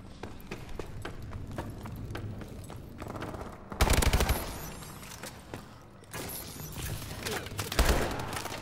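Rapid bursts of automatic gunfire in a Call of Duty: Advanced Warfare multiplayer match, with several sharp, loud volleys and scattered single shots amid background battle noise.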